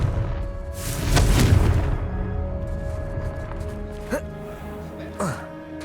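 The Confringo blasting spell in Hogwarts Legacy goes off as one loud, booming burst near the start, then fades into a low rumble with a couple of small whooshing pops afterward.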